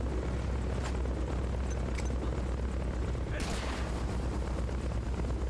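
A helicopter flies overhead in Metal Gear Solid: Peace Walker, its rotor hum steady and droning throughout, with a sharper burst of noise midway.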